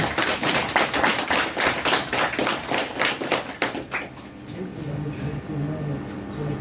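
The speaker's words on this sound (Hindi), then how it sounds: "तालियों की गूंज से इस्तकबाल करें" A workshop audience of school officials applauds to welcome a special secretary for school education, a dense burst of clapping for about four seconds that stops abruptly, followed by quieter room sound and a faint voice.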